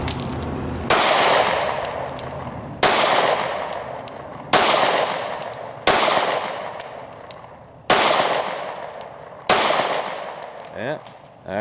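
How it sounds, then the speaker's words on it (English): Video game gunfire rings out as six evenly spaced sharp blasts, each trailing off into a long echoing decay, loud and close, with faint clanks between them. "Change that mag! Shoot him some more!"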